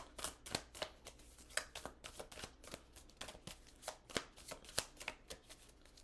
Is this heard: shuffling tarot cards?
yes